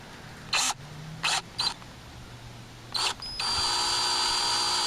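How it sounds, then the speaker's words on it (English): An electric drill, set up for fitting BNC jacks to an EICO 147A signal tracer, gives several short bursts with pauses between them, then settles into one steady continuous run close to the microphone. "get the drill set up"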